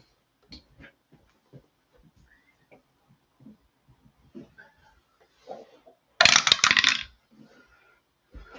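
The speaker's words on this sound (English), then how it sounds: "And we dropped the dice." Dice for an APBA tabletop baseball game are dropped onto a hard surface, giving one loud, close rattling clatter lasting about a second, preceded by scattered faint taps in a quiet room.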